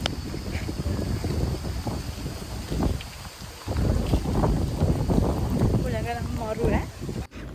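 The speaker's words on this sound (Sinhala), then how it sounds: "ඒ තරම් හුළඟ" Strong wind at Sigiriya rock buffets the microphone in a continuous low roar throughout, with a person talking over the gusts.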